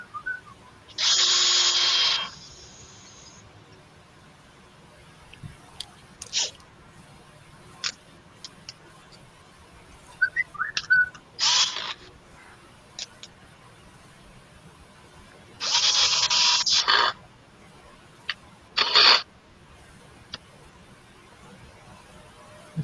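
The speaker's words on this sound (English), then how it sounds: "That sounds like some serious power tools." Short bursts of a power tool such as a screwdriver or drill whir at a building site, two longer runs of a few seconds with brief clicks and taps between them.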